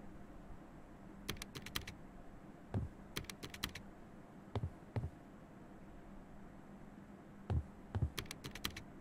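Old non-mechanical computer keyboard typing in the Infliction video game, soft clustered clicks in short irregular bursts over a low steady hum, quiet and close, with no speech.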